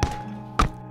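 Basketball banking off the backboard in a platformer video game, a sharp thunk followed by two more quick thumps, close and fairly loud, no talk.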